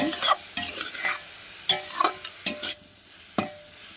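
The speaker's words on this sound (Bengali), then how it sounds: "আর একটু হলুদের গুঁড়া অল্প পরিমাণ দিয়ে একটু নাড়াচাড়া করে দিব।" Frying food in a pan being stirred after turmeric powder goes in, with several sharp scraping strokes over a light sizzle, close by, and no voices.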